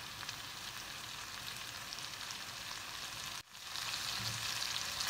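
Squid frying with chilli powder and spices in a pan on the stove, a steady loud sizzle running throughout with a brief dip near the end as it is stirred, then sizzling again more strongly.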